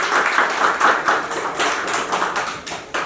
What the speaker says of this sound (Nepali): कृपया सबैजनाले ताली बजाउनु